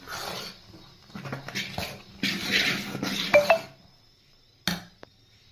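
Idli batter of dal and rice is stirred in a bowl, with scraping and clinking of a utensil against the bowl in uneven bursts, close and moderately quiet.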